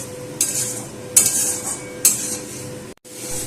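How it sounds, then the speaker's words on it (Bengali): Spice masala with salt, turmeric and sugar being sautéed in a pan for a tangy shol fish curry, with a low steady sizzle and three sharp scrapes of a spoon against the pan, close and without talk. "নুন হলুদ মিষ্টি দিয়েও আর একবার ভালো করে কষিয়ে নিচ্ছি"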